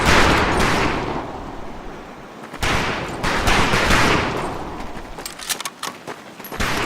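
Scoped rifles fire at long-range targets in Medal of Honor Pacific Assault, with a string of loud gunshot blasts and echoing reports over a constant noisy backdrop. No one speaks.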